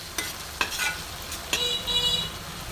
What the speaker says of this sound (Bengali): দেখো ভালো করে মিশিয়ে নিচ্ছি।